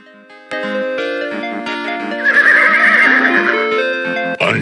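A horse neighs loudly from a King's Quest 6 game scene, a long whinny layered over synthesized game music and ending in a sharp final burst.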